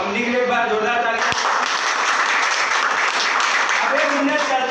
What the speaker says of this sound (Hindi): तो मैं चाहूँगा कंपनी के लिए एक बार जोरदार तालियां।